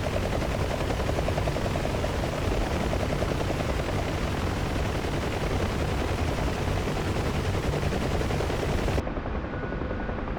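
A UH-1 Huey helicopter in a DCS video game fires its 7.62mm guns and rockets, a loud dense continuous rattle of gunfire over constant rotor and engine noise, which cuts off abruptly near the end.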